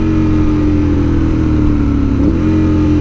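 A car or motorcycle engine revs loud and close while downshifting from third into second gear during road riding, a steady droning roar with a brief pitch dip and rise near the end.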